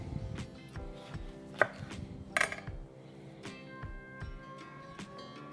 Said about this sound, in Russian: И сейчас я его нарежу